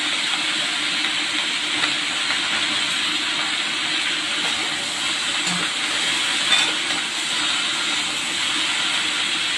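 Cumin seeds sizzle and hiss steadily in a hot pan while labra curry, a mixed vegetable dish, is being made, a constant broadband frying noise running unbroken and fairly loud throughout.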